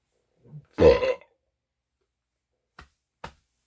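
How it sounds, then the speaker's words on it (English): A single throaty burp follows a drink of porter beer, close and loud, with a soft sound just before it and two faint clicks after. "I'm going to burp."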